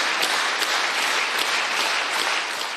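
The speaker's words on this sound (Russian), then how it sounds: "В главном зале Рустама Минниханова встречают стоя и под громкие аплодисменты" Loud, sustained applause fills the main hall of a Tatarstan State Council session as a crowd stands to welcome Rustam Minnikhanov, dense clapping continuing throughout and tapering slightly at the end.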